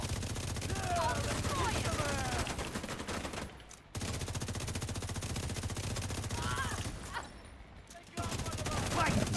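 Rapid gunfire from a video game mission against dense groups of enemies, sustained bursts running almost continuously with brief pauses, heard alongside game sound effects and faint voices.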